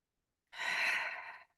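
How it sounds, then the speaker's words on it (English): A single deep breath, a long drawn exhalation like a sigh, close and clear for about a second with no talking. "Let's do 3 deep breaths."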